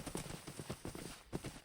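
Horse hooves clip-clop at a steady, quick trot in a Minecraft-style multiplayer survival game, the regular thuds close and fairly loud with no talk over them.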